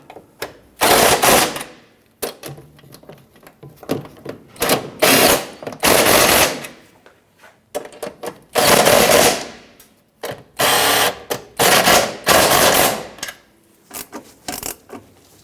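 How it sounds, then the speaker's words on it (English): Bursts of a ratcheting power tool tighten the anchoring nuts and bolts on the fuel tank straps of a 1997-2006 Jeep Wrangler, loud and close, in repeated runs of one to two seconds separated by brief pauses. "With all 7 of the anchoring nuts and bolts installed, let's go ahead and tighten them down."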